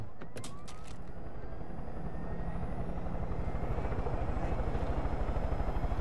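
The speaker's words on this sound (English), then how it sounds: "this helicopter's a bit slower than my other one" A helicopter flying in the video game Far Cry 5, its rotor thumping in a steady rapid pulse that grows slightly louder, with a few sharp clicks at the start and a whining tone above.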